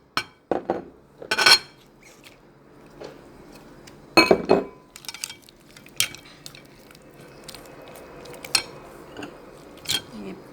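A spoon mixing pineapple and apple pieces for fruit chaat in a bowl, with scattered clinks and scrapes against the dish, some sharp knocks and softer wet shuffling, close up, with faint voice-like sounds in the background.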